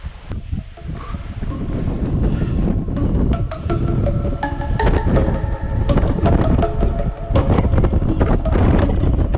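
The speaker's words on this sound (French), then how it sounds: "Il y a du vent." Strong wind buffets the microphone in loud rumbling gusts on a steep mountain trail while leaves and grass rustle nearby.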